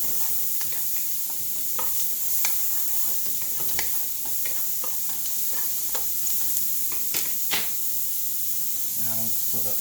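Onions frying in a pan for chicken cacciatore, a steady hiss and sizzle with scattered scraping and stirring taps from a utensil, close and continuous throughout.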